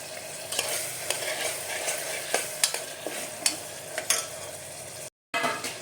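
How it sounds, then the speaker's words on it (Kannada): Tomatoes fry in a pan for a mutton sukka, giving a soft, steady sizzle punctuated by regular spatula scrapes and clinks close by, with a brief cut to silence near the end. "ಇದು ಸ್ವಲ್ಪ ಚೆನ್ನಾಗಿ ಫ್ರೈ ಆಗಲಿ, ಮೆತ್ತಗಾಗಬೇಕು ಟೊಮೆಟೊ."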